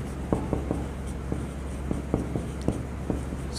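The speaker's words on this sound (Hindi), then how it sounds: "तो यहाँ पे हम लिखेंगे" Chalk or marker tapping and scratching on a board during a Class 10 trigonometry lesson, a series of short, sharp strokes at an irregular rhythm over a steady room hum, with no talk.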